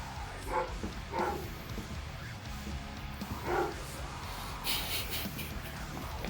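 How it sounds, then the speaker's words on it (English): A dog barks a few times in the distance outside, faint and muffled, with quiet kitchen noise in between. "We got a doggy outside barking like,"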